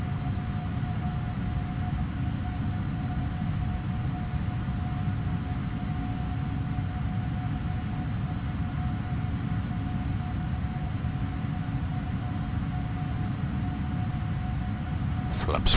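A simulated PMDG 777 Freighter speeds up for takeoff in the Prepar3D flight simulator with a constant, loud engine roar and a thin steady whine on top, alone throughout, ending in a brief click.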